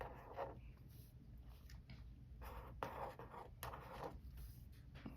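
Pen on paper writing cursive letters in D'Nealian style, quiet scratchy strokes in several short bursts with small pauses between, close and soft, with no talking.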